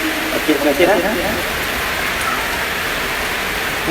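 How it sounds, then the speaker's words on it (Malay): Rain pouring down in a steady, close hiss, with a brief spoken voice over it near the start before the downpour carries on alone. "Jom kita main hujan."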